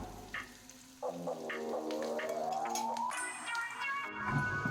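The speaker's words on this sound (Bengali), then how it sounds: "সাদা তেলেই খুব সুন্দর করে লাল করে মুচমুচে করে ভেজে নিচ্ছি" Slices of bitter gourd fry until crisp in white cooking oil, giving a steady sizzle and gentle stirring noises under a tonal whine that slides upward, close by and without talking.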